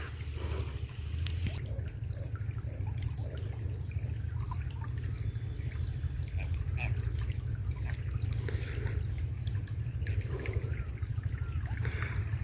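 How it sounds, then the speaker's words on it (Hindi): Irrigation water from an engine-driven pump pours out of a pipe into a wheat field, a steady trickling splash under a low pump hum, with a voice talking over it. "इंजन से पानी चलता हुआ पाइप के द्वारा, और फिर ये यहाँ पर आकर खेत में हमारे गिर रहा है ये पानी"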